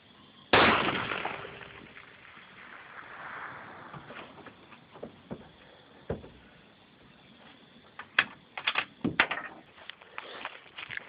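A custom Mosin Nagant rifle fires one loud, sharp shot on an outdoor long-range shooting range, followed by a fading echo, then scattered clicks and handling noises nearby.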